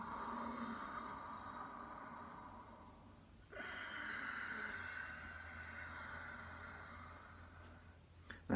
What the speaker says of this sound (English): Lovely, soft, silky, whistling ujjayi breath